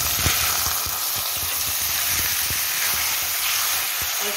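Cooked macaroni tossed into a pan of hot oil, a dense continuous sizzle with scattered light clicks of stirring, close and loud throughout, no talk.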